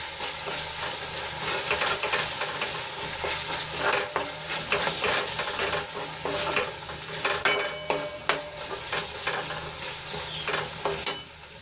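A spoon scrapes and stirs through a sizzling pan, mixing in coriander-cumin powder for a whole-garlic curry, with irregular clinks and taps growing sharper toward the end.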